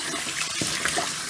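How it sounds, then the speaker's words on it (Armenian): Tap water runs steadily onto boiled sorrel leaves being cooled in a kitchen sink, a close, continuous splashing and gurgling stream. "այսպես թողում ենք հոսող ջրի տակ, որ ծիծակներն ամբողջությամբ լավ սառեն"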